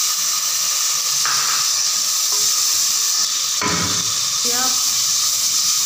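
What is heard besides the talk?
mutton white karahi masala sizzling while being fried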